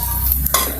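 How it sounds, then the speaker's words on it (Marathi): Rice being tempered with spices in a pan, a brief close sizzle with a quick stirring scrape and a short gap midway. "भाताला फोडणी देतोय आपल्यासाठी."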